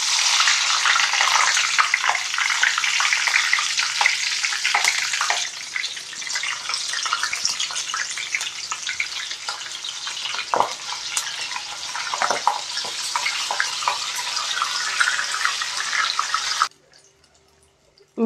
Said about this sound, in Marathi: ही आता तळून घेणार आहोत.